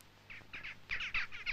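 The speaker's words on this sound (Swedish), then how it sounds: "Klockklang och fåglar." Birds chirping nearby in a quiet town, a quick series of bright, sharp tweets in short clustered bursts.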